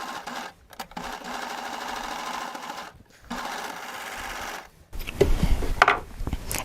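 A serger sewing machine gathering fabric for heirloom sewing, running in steady whirring bursts with short pauses between them, close and fairly loud, a faint clatter near the end.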